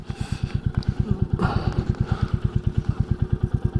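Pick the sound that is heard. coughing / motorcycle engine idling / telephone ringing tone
motorcycle engine idling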